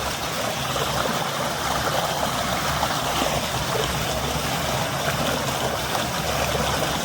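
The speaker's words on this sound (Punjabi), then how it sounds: "ਲਓ ਜੀ ਮੋਟਰ ਆਪਣੀ ਕਰਮ ਵਾਲੀ ਚੱਲਦੀ ਪਈ ਹੈ" A farm water pump motor runs while water gushes steadily into a puddled paddy field, a loud continuous rushing wash with a low hum beneath and no voices.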